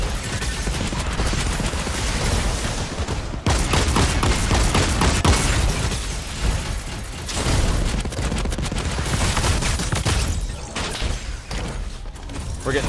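Rapid sniper and automatic gunfire crackles loud and dense through a video game firefight, sustained bursts packed together with only a brief dip partway through.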